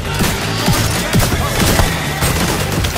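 A video game turret fires in quick repeated bursts during a control point match, loud and continuous against a busy backdrop of other combat noise.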